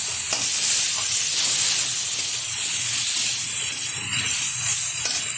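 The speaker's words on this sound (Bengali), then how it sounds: "ভালোভাবে কষিয়ে নেব।" Ground cumin, ginger and garlic paste frying in a pan with jackfruit for chana dal, a steady bright sizzle and hiss, close and continuous, with faint stirring scrapes.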